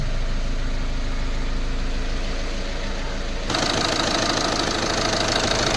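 A Volkswagen Polo 1.5 diesel engine idling just after starting, following a timing repair kit replacement, a steady close rhythmic diesel clatter that turns brighter and harsher partway through, with no talking.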